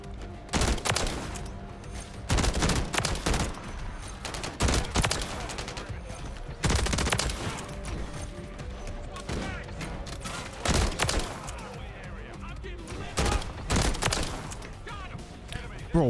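AR rifle gunfire in the video game Modern Warfare 3: repeated loud bursts of rapid automatic fire, close up, separated by short gaps of lower background game noise.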